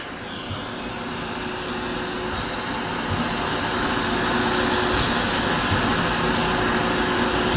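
Jeweler's torch roaring steadily while heating solder on a metal pendant, a constant loud hiss that builds slightly over several seconds, with faint metallic ticks.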